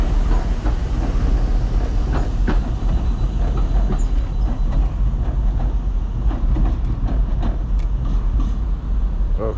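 A train rolls past at close range, a loud continuous rumble with rhythmic clicks of wheels over rail joints and occasional metallic squeals across nearly ten seconds.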